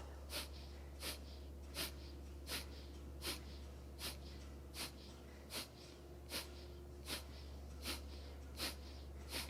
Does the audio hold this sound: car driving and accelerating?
no